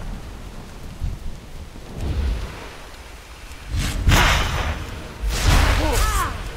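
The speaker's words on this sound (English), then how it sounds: "We weren't expecting rain." Rain and rolling thunder in a World of Warcraft Shadowlands storm at sea, with heavy bursts of rumbling thunder and whooshing gusts swelling over steady rainfall.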